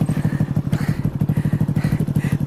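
Motorcycle ridden along a very rough road in Bades, its engine chugging in a steady pulsing rhythm with jolts and clatter from the bumpy track, close and fairly loud throughout.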